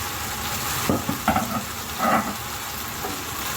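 Boiled keema with turmeric and salt goes into a hot pan, sizzling loudly and continuously, while a few stirring scrapes rise over the frying hiss near the middle.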